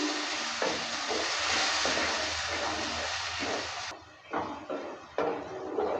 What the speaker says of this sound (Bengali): মশলার পেস্টটা দেওয়ার পর ভালো করে নেড়ে চেড়ে দিচ্ছি